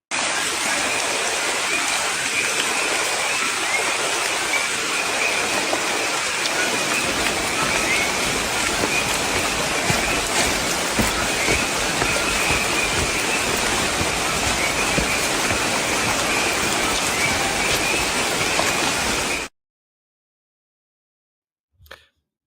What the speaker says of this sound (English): That is the sound of the coquí, the natural